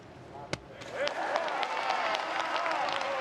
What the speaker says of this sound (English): Applause from the Great Britain camp.